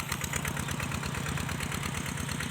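A 10 hp single-cylinder engine on a walk-behind tractor ploughs in second gear, a loud steady close chugging thump with constant pulsing rhythm throughout and no talk.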